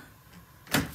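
A door pulls shut with a single short thud after a moment of quiet room tone, brief and moderately close.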